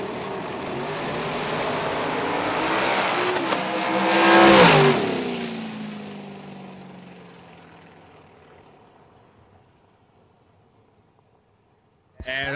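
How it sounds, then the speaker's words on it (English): A drag race car engine revs up and roars past, swelling to a loud peak before fading away into the distance, followed by near silence. "You heard him come up with the RPMs, and then you saw the car do a little wiggle"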